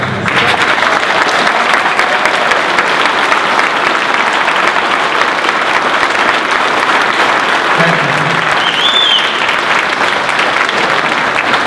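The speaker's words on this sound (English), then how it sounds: "You need a big hand of applause." A large audience at a Butte Fire town hall meeting claps continuously and loudly, a dense sustained wave of applause with a brief murmur of voices partway through.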